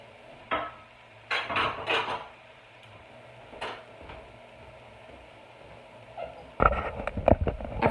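Diced onion dropped into a cooking pot, a few soft clattering thuds and scrapes of utensils against the pot, close and intermittent in a quiet kitchen.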